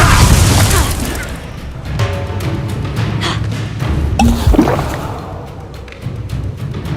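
A Confringo blasting spell exploding in a Harry Potter video game, a loud booming burst at the start that decays into crackling debris and rumbling, with scattered smaller impacts after.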